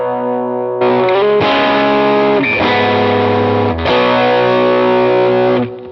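A slightly out-of-tune distorted electric guitar plays a sustained riff of ringing chords with a brief dip midway, loud and alone, fading out at the end.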